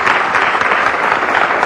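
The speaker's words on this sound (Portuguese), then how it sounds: "Um aplauso para as duas e bem-vindas" A studio audience applauds two guests on a Portuguese health telethon, a dense, steady wash of clapping that fills the whole stretch at close, even loudness.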